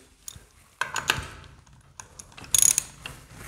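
A wrench ratchets bolts out during work on a fuel transfer tank, giving short bursts of close mechanical clicking separated by pauses, with one sharper, louder run of clicks near the end.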